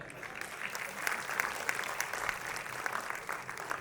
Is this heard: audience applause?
yes